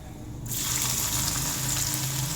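Chopped onion drops into hot oil already frying with green cardamom and cinnamon in a kadai, for a Bengali doi katla fish curry, and a loud, steady sizzle bursts in suddenly and carries on alone.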